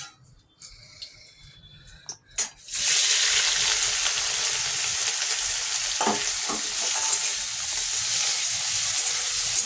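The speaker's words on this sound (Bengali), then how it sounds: "চিংড়ি মাছটা আমি ভেজে নিচ্ছি" Prawns frying in a pan for a home-style bottle gourd and prawn dish: after a few quiet clinks, a loud, steady hissing sizzle bursts in and holds close, with a couple of brief stirring sounds, no voices.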